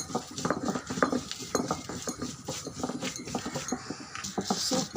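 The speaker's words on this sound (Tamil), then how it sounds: "எல்லாம் அம்மியில் வச்சு அரைச்சிக்கோங்க" Drumstick leaf chutney being ground on a traditional ammi stone, with a rhythmic run of scraping, knocking strokes of the grinding stone repeating steadily at close range.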